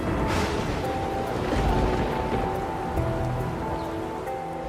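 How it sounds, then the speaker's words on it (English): Steady heavy rain pours down at the Maya cenote Holtun, a dense, even hiss with no talking. "We got rained out by the Maya water god Chalk and left with no visibility."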